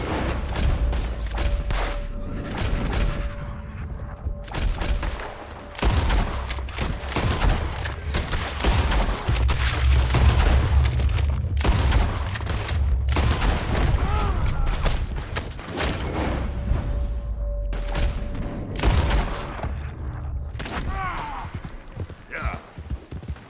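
Shootout in the western game Red Dead Redemption 2, with repeated gunshots and booms scattered through a busy scene of hoofbeats and shouting voices, loud and close throughout.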